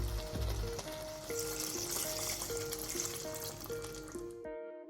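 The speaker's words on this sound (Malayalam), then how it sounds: "ചിക്കൻ വേവാനായിക്കൊണ്ട് ഒരു കപ്പ് വെള്ളമാണ് ചേർത്ത് കൊടുക്കുന്നത്" Water poured into a pan of chicken masala cooking for Kerala chicken mulakittathu, a steady liquid rush over soft sizzling, with faint steady tones in the background.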